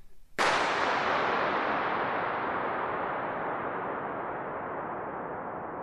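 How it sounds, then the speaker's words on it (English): A single sharp gunshot cracks out and then rings on in a long, broad reverberation that decays very slowly over several seconds, with nothing else heard. "a recording of you actually setting off a gunshot or something so that you could actually record, the reverberation"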